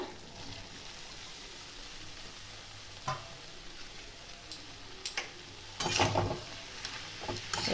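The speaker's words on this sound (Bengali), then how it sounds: "এবার দিয়ে দেবো বাঁধাকপি আর আলুটা" Cabbage and potato going into spiced oil in a pan, heard as a quiet steady sizzle with occasional sharp clacks and a louder burst of scraping and sizzling near the end, close and with no talking.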